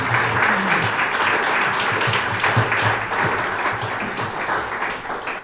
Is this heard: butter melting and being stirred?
no